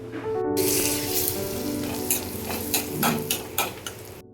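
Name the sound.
cinnamon, cardamom and cloves sizzling in butter and oil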